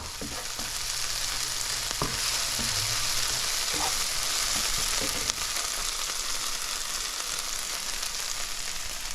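Corned beef and tomato paste frying in a pan give a dense, continuous sizzle, close and steady for the whole stretch, with a few faint utensil clinks early on.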